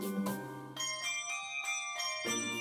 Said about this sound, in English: it's very difficult to go to a mall or a public place and not hear the sound of bells